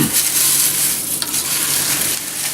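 Crisp cereal is stirred into a sticky peanut butter mixture in a pan, giving a close, steady scraping rustle for a couple of seconds with no talking.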